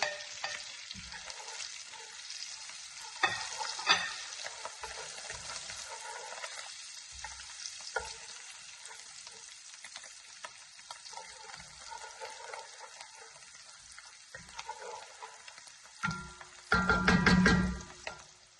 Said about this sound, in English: I'm going to add the garlic. And then I'm going to add the herbs that I cut up. Be careful, they might splatter.